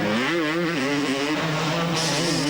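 A 250cc Kawasaki two-stroke racing motorcycle at the 1997 Belgian Grand Prix screams close and loud, its engine note wavering through gear changes and revs without pause.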